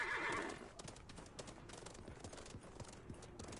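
Horse neighing and whinnying in the video game Realm Royale, a loud whinny at the start followed by rhythmic clip-clopping hooves and game noise, with no talk.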